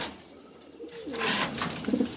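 Pigeons cooing at a farm where birds are kept for breeding, a couple of clear, close rolling coos rising out of near silence.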